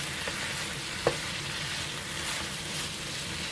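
Sliced red chili is stir-fried with pork and squid for spicy osam bulgogi, giving a steady, dense sizzle in the pan with one sharp utensil clack near the start.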